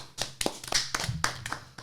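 A group of people claps steadily for about two seconds, a dense run of sharp, fairly close hand claps.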